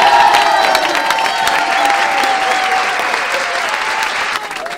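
Studio audience at a Spanish-language gossip show breaks into loud, sustained applause with some cheering mixed in, a thick close wash of clapping that tapers slightly at the end.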